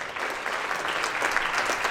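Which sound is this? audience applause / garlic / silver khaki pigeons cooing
audience applause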